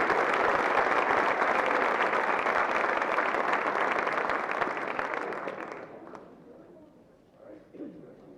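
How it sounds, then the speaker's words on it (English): Sustained audience applause for student athletes at a school event, loud and steady for about six seconds before fading out, followed by a few faint sounds. "Let's give them one more round of applause."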